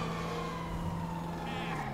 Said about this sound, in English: I'll turn on my sirens for science.